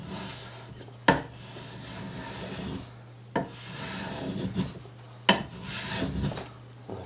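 A homemade block plane takes thin, light shavings off a wooden piece, making a steady rasping rub in three long strokes, each opening with a sharp bite, close and moderately loud.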